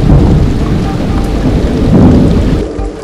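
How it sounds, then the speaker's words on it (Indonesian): Heavy rain pours down steadily on a mountain trek near Binaya in Indonesia, a loud, dense roar with deep thunder rumbling underneath throughout. "Lagi-lagi, hujan turun dengan derasnya."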